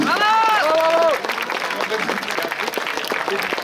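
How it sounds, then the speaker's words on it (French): Audience applause at a Saint-Jean dance demonstration, a dense burst of clapping from a crowd; a voice with sung or called tones rides over the start, then steady clapping continues loud and close. "Voilà, on peut les applaudir"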